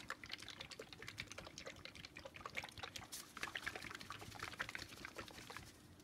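A container of varnish thinned with a little water being shaken in a studio, giving quick rattling sloshes in an uneven rhythm, close and fairly quiet.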